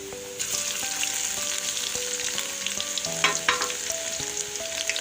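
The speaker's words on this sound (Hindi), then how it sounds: "अब मैं लहसुन अदरक की पेस्ट डाल रही हूँ।" Hot oil sizzles continuously as garlic-ginger paste fries for aloo matar pulao, with a busy crackling hiss and a few stirring scrapes, over quiet music in the background.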